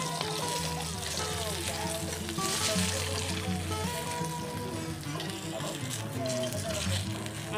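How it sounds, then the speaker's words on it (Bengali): Fish frying in hot oil in a kadai (wok) gives a steady, continuous crackling sizzle, close by, with background music playing over it the whole time. "আমার মাছটা ভাজা হয়ে গেছে তো আমি এটা তুলে নিচ্ছি"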